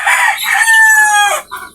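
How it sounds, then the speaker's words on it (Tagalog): A rooster crows loudly and close by in one long drawn-out call lasting over a second, followed by a brief softer cluck. "Yan yung ating sinibalang na manok natin"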